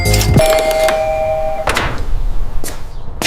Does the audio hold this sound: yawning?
no